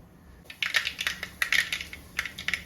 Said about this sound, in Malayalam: ഇതിലേക്ക് കാൽ ടീസ്പൂൺ കടുക് പൊട്ടിച്ചു കൊടുക്കാം